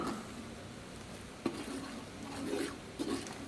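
Stirring chili powder into biryani masala in a pan, a faint, soft scraping and light sizzle, close, with a couple of brief louder scrapes of the spoon against the pan.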